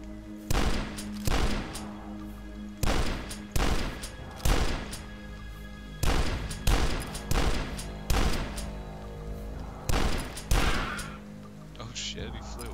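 Shotgun blasts in the retro shooter game Dusk, about a dozen heavy booming shots fired in quick pairs and bursts with short pauses, loud and close, followed by a brief quieter stretch.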